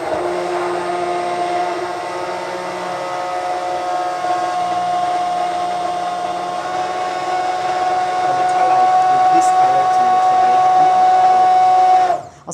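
Blender whipping a thin, liquidy hummus with cayenne pepper and cumin, a steady loud motor whine with sustained tonal hum that runs unbroken for about twelve seconds before cutting off.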